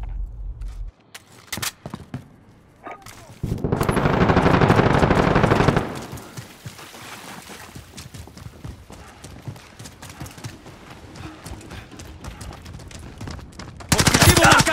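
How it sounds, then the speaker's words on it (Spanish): Gunfire in the video game Call of Duty: Modern Warfare, with scattered sharp shots and a dense burst of automatic fire, loud and close, mixed with game effects and radio-style voices. "¡Me están disparando!"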